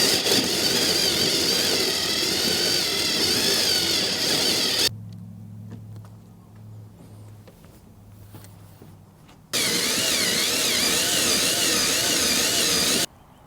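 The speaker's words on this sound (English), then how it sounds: "now it's time to drill this hole" A power drill boring a hole in a boat during a refit, loud and close, running about five seconds, going quiet for several seconds, then whining again before stopping.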